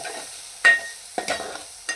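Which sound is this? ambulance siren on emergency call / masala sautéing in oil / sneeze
masala sautéing in oil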